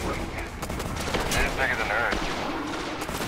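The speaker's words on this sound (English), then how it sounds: "That dude's got a damn Gatling gun," A Gatling gun firing in Destiny, a sustained, rapid stream of shots rattling continuously throughout, dense and fairly loud amid game noise, with some talking mixed in.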